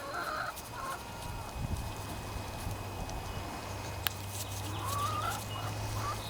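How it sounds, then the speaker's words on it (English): Chickens cluck and call intermittently at a moderate distance over a steady low hum, with a brief sharp click partway through. "My chickens are really wanting out."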